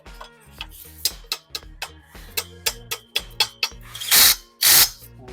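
A steel console cabinet panel being screwed together with a power drill, giving a series of sharp rhythmic clicks and taps followed by two louder, longer bursts of drilling near the end, close and with no talk.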